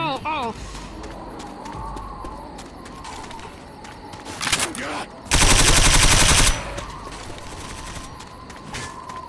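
Close-range gunfire in the Left 4 Dead zombie shooter, a dense rapid burst lasting about a second midway, preceded by scattered game noises and a few smaller shots.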